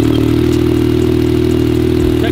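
A Yamaha YXZ1000R side-by-side engine runs on a new ECU tune right after its first startup, a loud, steady idle with a strong low rumble and some mechanical clatter, close by.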